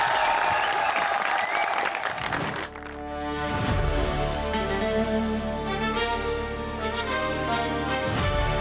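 A studio audience at a Wagah Border special television show claps steadily and loudly for about three seconds before a swelling musical performance takes over.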